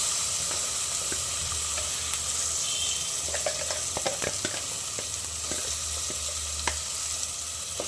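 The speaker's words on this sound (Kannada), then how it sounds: "ಆಮೇಲೆ ಇವಾಗ ರುಬ್ಬಿರೋ ಅಂಥ ಖಾರ ಒಗ್ಗರಣೆಗೆ ಹಾಕ್ತೀನಿ." Ground chili paste hitting hot tempering oil for a horse gram and banana stem curry, a continuous close sizzle with scattered pops and spoon scrapes throughout, no voices.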